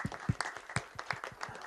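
Faint applause from an audience at a film trailer launch event: a short run of scattered, distinct hand claps in an irregular rhythm.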